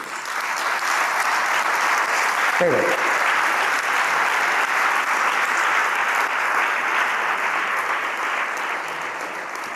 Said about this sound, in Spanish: Un aplauso y un homenaje a esa gente